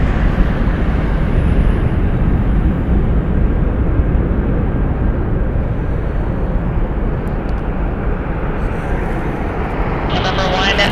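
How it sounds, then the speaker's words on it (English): A Learjet on short final to land, a steady broadband engine roar dominating throughout with a faint high whine, while a voice talks over it. "There's our Learjet."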